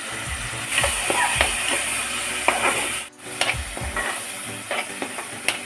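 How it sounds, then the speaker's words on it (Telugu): Dried shrimp, onions, green chilies and tomatoes sizzle in hot oil for a cauliflower curry, with steady frying hiss broken by repeated stirring scrapes and clinks of a utensil against the pan, close and fairly loud. "ఎండు రొయ్యలు, ఆనియన్స్, పచ్చిమిరకాయలు ఆయిల్లో ఫ్రై చేసుకోవాలి."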